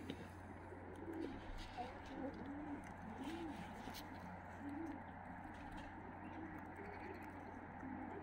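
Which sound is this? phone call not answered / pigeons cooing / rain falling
pigeons cooing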